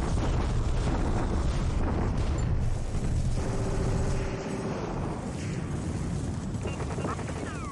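Artillery bombardment in War in the Pacific, heavy continuous rumbling explosions and blasts filling the whole stretch, loud and dense, easing slightly partway through.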